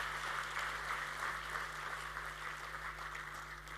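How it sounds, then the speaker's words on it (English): Audience clapping at a school's annual prize-giving ceremony, a steady, moderately distant wash of applause lasting the whole stretch with a faint constant hum beneath it. "We can clap for him, although he's not here."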